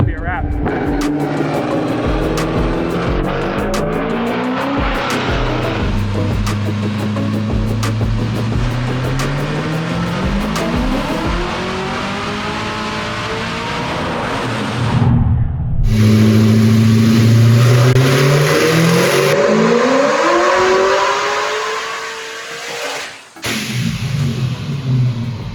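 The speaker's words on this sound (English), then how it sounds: "So the Vortec blower is hooked up. And let's see how it does." A demo car fitted with a Vortec supercharger blower on a test run, its engine loud and near, revving and climbing through rising pitches, dropping briefly, then surging again with a supercharger whine.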